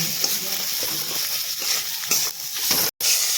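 Spice masala sizzles and fries in a pan while being stirred for a spinach and potato dish, a steady crackling hiss with soft scraping strokes, close and alone, broken by one brief dropout near the end.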